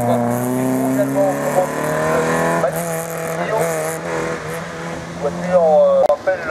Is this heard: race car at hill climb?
yes